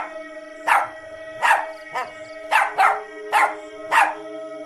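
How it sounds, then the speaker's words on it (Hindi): A dog barks repeatedly, seven sharp, loud barks in an uneven rhythm, close by over a steady hum in the background. "चुड़ैल को देखकर भौंकने लगता है"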